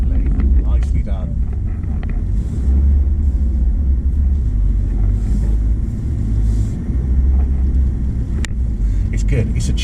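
A 2017-onward Ineos Grenadier crawls off road in Scotland, its engine a steady low rumble with wind buffeting the microphone and occasional murmured voices inside the cabin.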